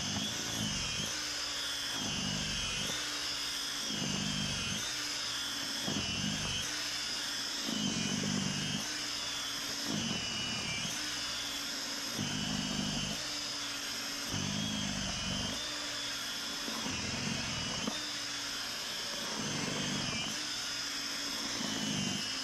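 An EGO battery-powered snow shovel whirs steadily as it clears snow from a driveway, its motor surging and easing in a regular pulsing rhythm as it bites into the snow, continuous and fairly close.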